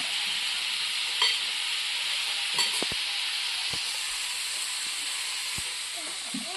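Food sizzles steadily in a pan while lunch is cooked at home, a constant loud frying hiss broken by a few clinks and scrapes of stirring.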